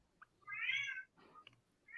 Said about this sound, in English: Can you just shut that cat up?